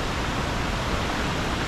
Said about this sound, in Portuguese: Mas é bem legal aqui a cachoeira.